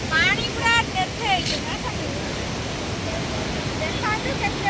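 Heavy rain and gusting wind over running water make a steady, loud broadband rush, with voices speaking briefly near the start and again toward the end.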